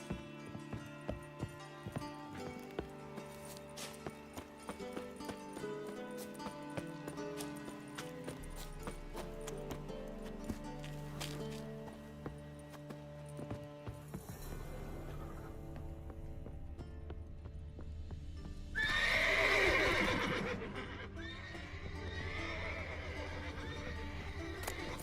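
Horses in The Witcher 3 video game whinny loudly over a layered game soundscape with music, a sharp neigh rising near the end among steady hoof clops.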